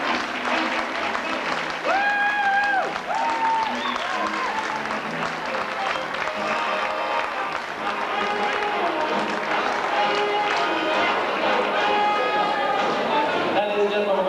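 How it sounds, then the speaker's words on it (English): A Miss Ireland 1992 pageant audience applauds for the contestants backstage, sustained clapping filling the hall throughout while a voice talks over it. "Give a round of applause to all the girls backstage who didn't get to go here."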